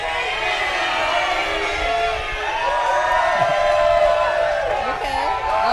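A crowd cheers and shouts for military cooking teams at a Fleet Week galley cooking competition in Los Angeles, a loud continuous roar of whoops and voices sustained throughout, with shrill overlapping yells rising near the end.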